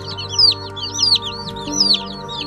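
Several chicks chirp in quick, high repeated calls in three short bursts, over a low steady hum, close by in a brooder.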